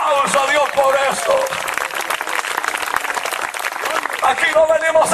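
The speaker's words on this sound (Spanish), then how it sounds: "Dale su ofrenda de aplauso a Dios por esto." Loud, sustained applause from a large church congregation, continuous clapping filling the space throughout.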